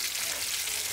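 Fish frying crisp in a pan crackles with a dense, continuous sizzle, close and steady throughout.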